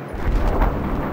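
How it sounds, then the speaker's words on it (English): A deep, rumbling grenade blast in Battlefield 4, a single heavy low boom swelling briefly and rolling off, loud and close with no voices. "Now that's how you throw a grenade."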